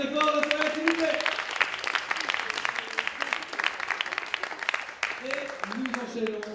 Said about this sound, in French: On applaudit très fort le frère, s'il vous plaît.